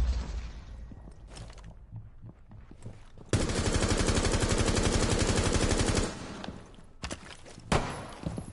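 Video game gunfire, with a sustained burst of rapid shotgun blasts roaring for about three seconds, then a few more sharp single shots and thuds, loud and close.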